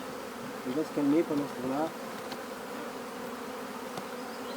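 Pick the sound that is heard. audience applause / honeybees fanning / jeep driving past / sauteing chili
honeybees fanning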